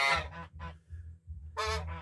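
A goose at its nest gives a run of close, loud, nasal honks in two bursts separated by a short pause.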